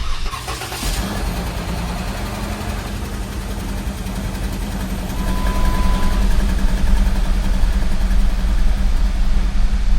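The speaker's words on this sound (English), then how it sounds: "Beginning engine starting sequence now" Jeep Wrangler 3.6 with a P0172 fault cranks briefly and catches, then settles into a steady, close idle with a constant low hum that grows slightly louder toward the end.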